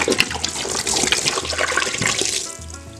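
A whole 1.7-litre bottle of Jack whiskey is poured in a steady, gurgling splash of liquid that lasts the full few seconds, with no talking.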